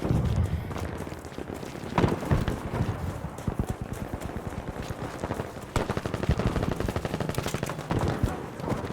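Repeated machine gun bursts ring out in the World War II shooter Battlefield V, loud and close, with rapid rhythmic firing in several volleys amid battlefield clatter.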